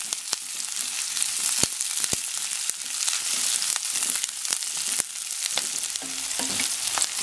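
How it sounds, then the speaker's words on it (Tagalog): Onions fry in a pan, a steady close sizzle and crackle with sharp scraping clicks from stirring scattered across the whole stretch. "So, lulutuin natin itong onion. Hintayin nating maluto yung onion."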